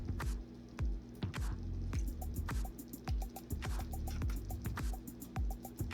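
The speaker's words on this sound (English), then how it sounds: "for a little smoky flavor, just a capful of some liquid smoke" A capful of liquid smoke is poured into a pot of homemade baked beans, heard as a run of soft, close wet drips and squishy plops repeating irregularly over a faint steady hum, with no talking.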